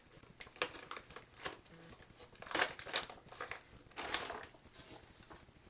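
Plastic MRE ration packaging crinkles and crackles in close, uneven bursts, with louder rustling flurries midway and near the end and no talking.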